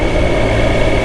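A motorcycle engine idles steadily with a decibel killer fitted in the back of the exhaust, giving a continuous, loud, low rumble with no breaks or voices.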